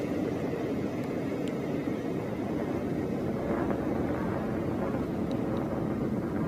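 A Blue Origin New Shepard rocket with its BE-3 engine climbs after liftoff, a steady, distant low roar with broadband rumble holding level throughout.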